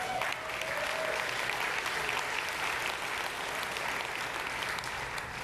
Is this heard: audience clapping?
yes